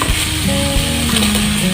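Capsicum sautéed in a pan with carrot and tomato for mushroom biryani, a loud steady sizzle with occasional scraping stirs, close and continuous, no talking.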